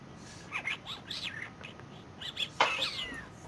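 A small bird chirps in a short series of bright, quick tweets and whistles, fairly close and clear over a quiet room background, with a slightly louder burst near the end.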